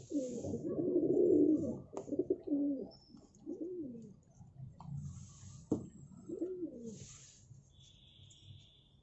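A pigeon coos softly in low, rolling phrases, repeated a few times at close range with light rustling and faint chirps behind.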